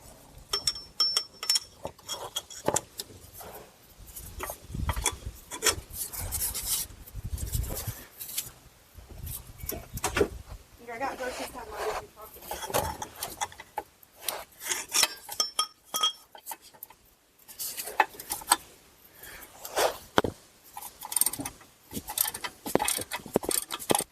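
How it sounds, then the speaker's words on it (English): An 18 mm socket on a ratchet loosening a torque converter bolt on a Chrysler Town & Country 62TE transmission, irregular close metallic clicks, clinks and rubbing in repeated bursts with pauses, no talk. "Then we'll take our 18 here, and we should be able to loosen up this torque converter bolt."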